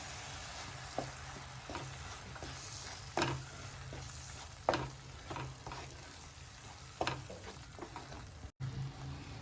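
Coconut paste masala frying in a pan for matar paneer, a soft continuous sizzle broken by occasional scraping and stirring clicks, close and quiet, with no talk.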